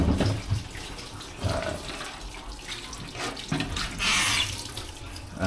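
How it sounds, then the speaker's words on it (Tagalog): Kitchen faucet in a condo unit running with a strong flow, a steady hissing rush of water that swells louder near the end, close by with no talk over it. "Check natin yung tubig kung malakas. Ayun, malakas."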